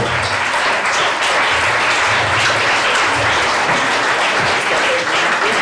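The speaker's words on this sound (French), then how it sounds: "je vous demande de faire un applaudissement pour Alexandre Leclerc et Yanis Catan" At a town mayor's New Year address in Verlinghem, a hall audience claps for two young men, loud continuous applause filling the whole stretch with no letup.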